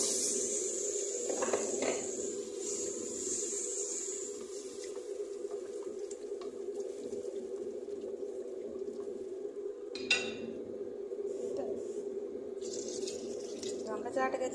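Water runs and splashes steadily into a pot for making upma for several seconds beside a low humming background, with a few clinks and short bursts of noise.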